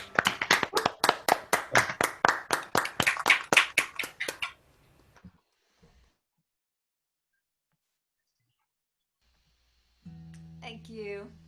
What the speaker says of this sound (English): It is so nice to hear clapping again.